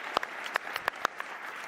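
A handful of people clap at a healthcare conference keynote, sparse, scattered claps of moderate loudness over a quiet room, brief and uneven.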